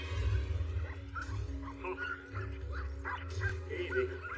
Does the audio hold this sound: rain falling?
no